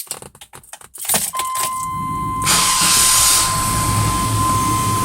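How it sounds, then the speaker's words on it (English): A 1997 Chevy Blazer 4WD truck starts up after a jangle of keys, the engine catching and settling into a loud, steady run with a constant high whine running through it. "Let me start up my truck real quick."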